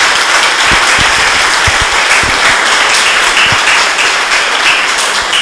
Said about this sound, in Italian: Un grande applauso per quello che ha fatto